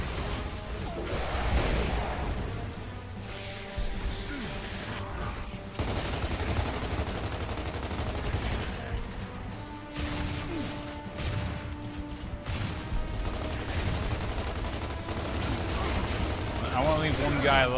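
Boltok pistol and other gunfire in Gears of War 2, a dense, chaotic stretch of shots, impacts and mechanical clatter in a busy battle mix, with a voice talking over parts of it.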